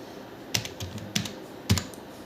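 HTML code typed on a computer keyboard, three or four crisp, close key clicks with short pauses between them, quiet and otherwise still.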